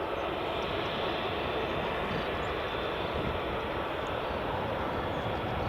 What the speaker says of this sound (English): We've got EasyJet A320 and Aegean A320 Neo taxiing.